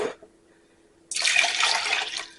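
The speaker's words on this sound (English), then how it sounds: "I need 1 cup of water, or I'm going to use chicken broth." Chicken broth being poured for a beef and broccoli stir fry, a steady close liquid splash that starts abruptly after a short pause and runs on at moderate loudness.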